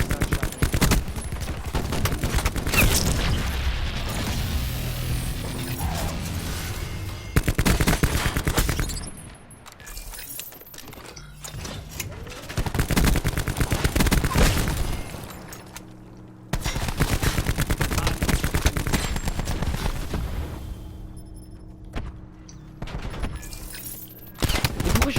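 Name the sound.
Peacekeeper gunfire in video game Call of Duty Black Ops 4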